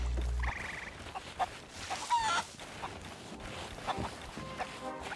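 Chickens cluck in Sea of Thieves, a few short clucks and squawks scattered through steady game ambience at moderate level, with no one talking.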